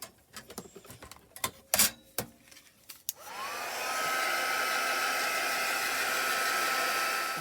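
A few light taps and clicks come first, then a handheld dryer switches on and blows a steady, loud whoosh, drying paint splatters on a handmade journaling card.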